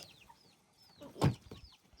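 Chickens and roosters on a farm give a few short clucks and soft chirps, then one louder squawk near the middle, fairly close by in a quiet setting.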